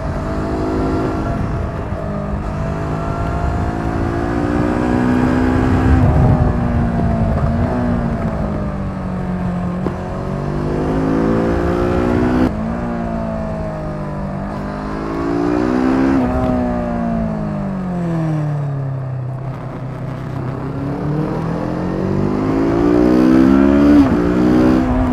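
Kawasaki Z650 (2020) motorcycle riding: the engine revs rise and fall through repeated accelerations and gear changes, a loud, continuous, close-up drone with no talking.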